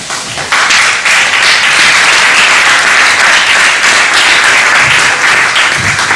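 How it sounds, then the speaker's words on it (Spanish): Audience applause for an actress playing a countess on a theatrical tour of a town route, a dense, steady clapping that swells in quickly near the start and carries on loud and close to the end. "Un aplauso para ella."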